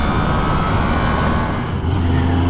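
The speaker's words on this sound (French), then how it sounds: "On reprend donc la piste pour vous donner nos impressions au guidon de la bombe de Kawasaki." Loud, steady engine drone of a Kawasaki sport motorcycle ridden on a race track, continuous and close with no talk.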